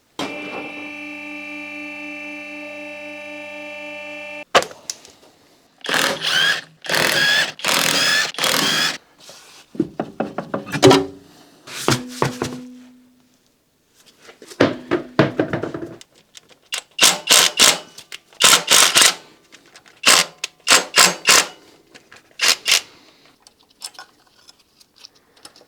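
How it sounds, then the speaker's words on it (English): Mechanical tools at work on an Opel Ascona while a wheel is taken off: a steady ratcheting whir, then repeated bursts of clicking and clanking from a wrench or ratchet, close by with short pauses between them. "Then I'm going to lift it up and take the wheel off so I can get to the lower pulley."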